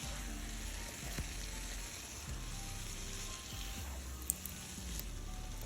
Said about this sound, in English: And I'm just tossing, just trying to make sure it gets all through all of the okra and the tomato mix